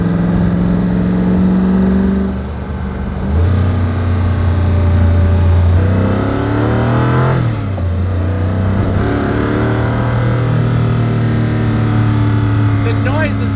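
Koenigsegg Agera RS supercar engine heard from inside the cabin: a loud, continuous engine drone with the pitch sweeping up and down as the car accelerates and shifts, with a person talking over it.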